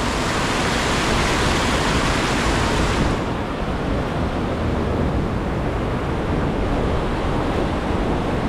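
Strong rushing water at a river swimming spot, a loud continuous roar of churning flow that fills the whole stretch without pause, heard alone with no voices.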